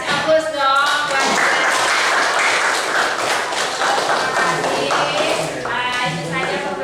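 Applause breaks out in a classroom: a dense burst of clapping from a group of students lasts several seconds, with a voice talking just before it starts and again as it fades.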